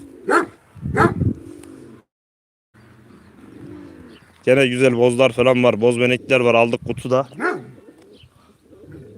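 Someone speaks, then dogs bark nearby in Çankırı, Turkey, in a loud cluster of sharp yips and howls, mixed with pigeons cooing in the background.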